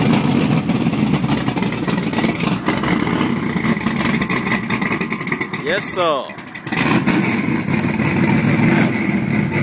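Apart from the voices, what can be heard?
pickup truck engine revving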